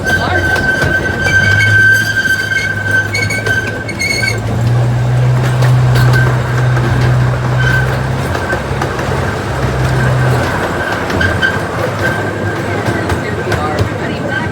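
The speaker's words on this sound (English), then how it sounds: "Please remain seated until the train comes to a full stop" A miniature zoo train rumbles and clatters along its rails at a steady pace, with a faint whine and muffled voices underneath.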